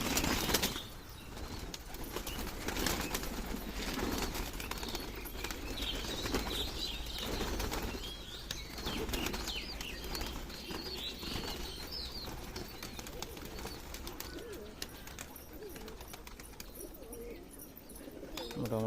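Desi Giribaz pigeons leave their loft in a loud, close burst of wing flapping that goes on as birds stream out, with cooing and a low voice now and then in the background.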